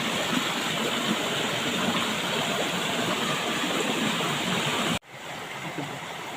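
A Konkan waterfall roars with a dense, unbroken rush of flowing water, loud and steady, briefly cutting out before resuming.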